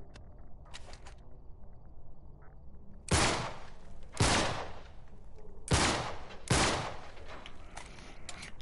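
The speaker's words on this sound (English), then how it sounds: "Back up, I'll shoot the lock." Gunshots in the action game Uncharted: Drake's Deception as a lock is shot open: four loud, close reports spaced about a second apart over a quiet background hum, with no voices.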